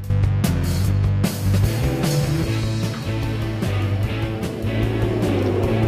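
A grid of 1991 Formula 1 cars revs their engines at Interlagos before the Brazilian Grand Prix start in the sim racing game Automobilista 2, making a dense, loud, continuous droning roar.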